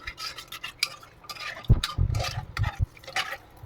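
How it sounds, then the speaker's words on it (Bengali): A spoon stirs homemade baby food with water in a pot. It makes a run of close, irregular scrapes and clinks that grow busier midway, with no voices. "একটু নেড়ে চেড়ে দেবো, ঢাকা দিয়ে দেবো।"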